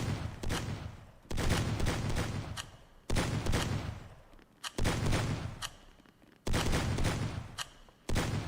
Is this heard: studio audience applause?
no